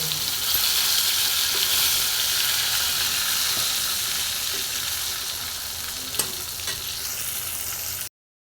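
Vegetables sizzle in hot oil with salt and turmeric, a loud, even frying hiss close by that eases slightly over time, with a faint clink near the end before cutting off.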